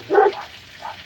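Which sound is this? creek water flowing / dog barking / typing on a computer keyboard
dog barking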